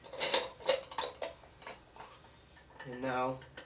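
Faint metallic clicks and clatter as an attachment is screwed onto a large manual metal meat grinder, a few scattered taps and a short grinding rattle near the end.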